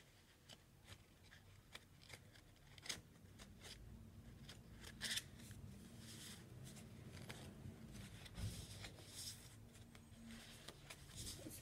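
Playing cards being shuffled by hand, with repeated soft riffling and flicking, quiet and close, in uneven bursts as the shuffle is attempted clumsily.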